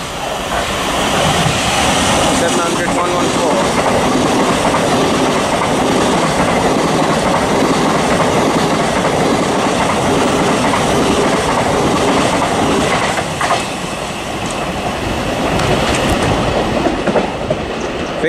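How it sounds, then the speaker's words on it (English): A Thameslink Class 700 electric train speeds through Preston Park station, a loud, sustained roar of wheels and rushing air with rapid rail clatter, close and steady from start to finish. "Going to be a speeding Thameslink."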